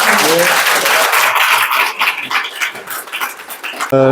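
At a Korean forum lecture on AI, a roomful of listeners gives warm, fairly loud applause that holds briefly, then breaks into scattered, uneven claps as it dies away, with a short burst of other sound at the very end.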